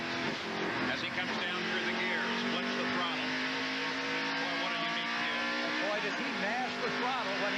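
A 1991 IROC race car at Watkins Glen roars under the throttle while climbing uphill through turns. The engine whines steadily, with rising and falling pitch as it is pushed hard, under continuous commentary.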